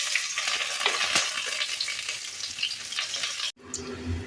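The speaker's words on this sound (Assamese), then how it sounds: "ইয়াতে পিঁয়াজ, তেজপাত আৰু শুকান জলকীয়া দুটা ভাজি ল'ম।" Onion, bay leaf and two dried chillies fry in hot oil in a wok for a duck curry, a loud, dense and steady sizzle that cuts off abruptly near the end to a quieter hiss.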